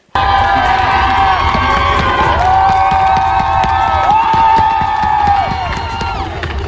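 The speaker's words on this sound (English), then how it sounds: "as the Abolish ICE flag came out, the crowd went crazy" A packed arena crowd at a New Jersey Devils hockey game roars and cheers loudly and continuously, with scattered whoops, shouts and whistles rising over the din.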